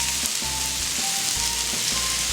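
Prawns and ketchup hit a pan already holding fried ginger, garlic and green onions, giving a loud, continuous sizzle with soft rhythmic thuds of stirring underneath and no talk.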